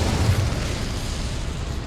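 A sustained roaring whoosh of the Incendio fire spell in Hogwarts Legacy, a loud, steady blast of flame filling the short moment with no voices over it.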